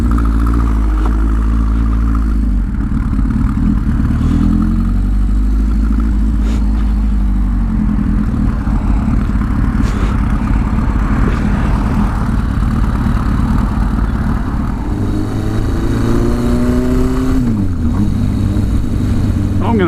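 A Suzuki GS1000 motorcycle engine runs loud and close throughout, a steady idle that swells into revs with rising and falling pitch sweeps near the end, with a voice talking over it.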